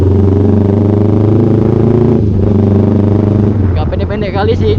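A carbureted Kawasaki Ninja motorcycle with an SC Project exhaust drones loudly and steadily nearby, its low rumble dipping briefly mid-way, while a person talks over the engine toward the end.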